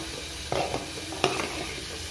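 Pieces dropped into a sizzling pan while cooking Bonalu festival dishes: two quick clattering splashes over a steady frying hiss, close up, with no talk.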